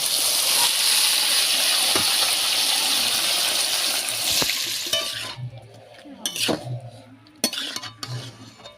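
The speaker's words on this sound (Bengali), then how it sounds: "এবার দিয়ে দিচ্ছি ম্যারিনেট করা সবজিটা।" Marinated vegetables drop into hot oil spiced with cinnamon, cardamom, cloves and bay leaves, setting off a loud, dense sizzle that fades after a few seconds into quieter spluttering and scattered clinks of a spoon against the pan.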